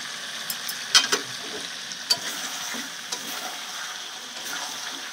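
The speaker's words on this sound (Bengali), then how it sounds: "এবার আমি মাংসটা দিয়ে দেবো, দিয়ে আবার ভালো করে মাংসটা কষিয়ে নেবো।" Large pieces of meat stir-fried in a spice masala, a soft continuous sizzle with a few sharp spatula taps and scrapes near the start, close by and without talking.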